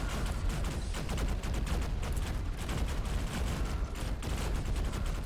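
Rapid, dense gunfire in the roguelike shooter Vampire Hunters, a Vampire Survivors and Doom crossover, as continuous overlapping shots and blasts that stay loud and close for the whole stretch, with no talking.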